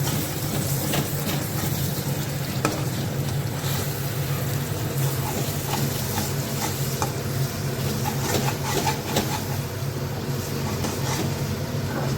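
Food stir-fried in a pan gives a continuous, even, loud sizzle with occasional faint scrapes and taps of a utensil throughout.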